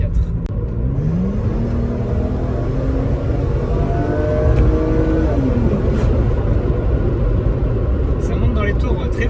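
A 1997 Mercedes C280 Sport's M104 straight-six climbs through the revs under kickdown acceleration, the engine note sweeping steadily upward in pitch inside the cabin, over a constant road rumble, with a voice speaking partway through.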